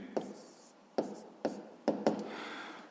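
A pen writing out a fifth-grade math solution on paper, with a handful of short scratchy strokes tapping down at irregular intervals over a soft rubbing background, close and fairly quiet.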